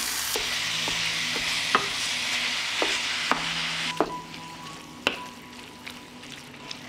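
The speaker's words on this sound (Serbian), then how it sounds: "sada ću propržiti mleveno meso" Minced pork frying in melted lard in a pan, a steady close sizzle broken by several sharp spatula scrapes and taps against the pan, the hiss easing slightly toward the end.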